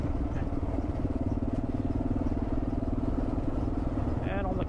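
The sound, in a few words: KLR650 and DR650 motorcycle engines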